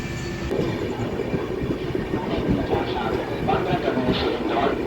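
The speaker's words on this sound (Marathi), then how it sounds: "आता आपली ट्रेन तर निघाली आहे" Steady rumble and rattle of a moving Mumbai suburban passenger train heard from inside, with faint clatter and muffled voices throughout.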